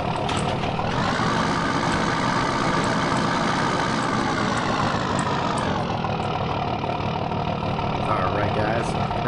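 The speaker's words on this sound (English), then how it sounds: "I'm driving a Sterling 5500." A Sterling 5500 hauler truck engine in the Farming Simulator 2015 game, a loud, continuous diesel drone that rises slightly and then settles, heard on its own throughout.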